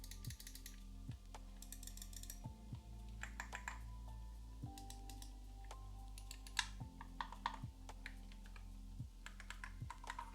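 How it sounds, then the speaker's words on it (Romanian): Crisp button clicks from a Corsair Ironclaw RGB wireless gaming mouse, a series of sharp, close clicks in an irregular rhythm over a low steady hum, with no voices. "Toate butoanele au un click așa foarte crisp"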